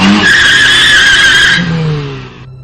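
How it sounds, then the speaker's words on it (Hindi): A motorbike's tires screech loudly in a sudden skid lasting over a second, then the squeal fades into a low engine rumble as the bike comes to a stop. "बाइक एक झटके से रोक दी"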